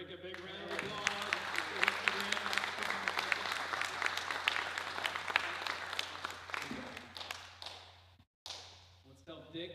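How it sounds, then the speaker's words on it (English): Audience applause for a boat racer fills the room, dense clapping sustained for about eight seconds, cutting off briefly, then resuming more faintly near the end. "Let's give Rick a big round of applause."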